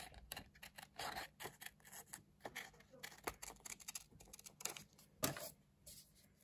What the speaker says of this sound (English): Cut the pattern out using a pair of scissors.